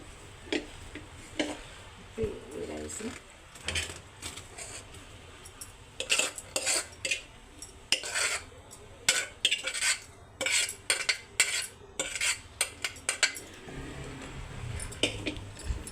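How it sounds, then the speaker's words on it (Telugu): Cooked rice is stirred into thick sugar syrup in a pot, the metal spoon scraping and clinking against the sides in quick, irregular strokes that grow busier toward the end. "బాగా కలుపుకోవాలండి అడుగు పట్టకుండా కలపాలండి"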